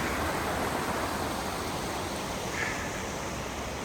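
Clark Creek flows along the Elk Meadows Trail in the Mount Hood Wilderness, heard from a bridge as a steady, loud, broadband rush of water that stays constant throughout, with no voices.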